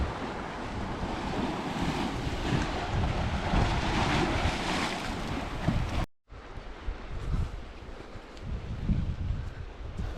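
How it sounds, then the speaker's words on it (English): Sea waves crashing on the rocky Usan coast in Angus, Scotland, a loud continuous roar of surf with heavy wind buffeting the microphone and a brief dip midway. "The power of the sea, nature itself, just mind blowing."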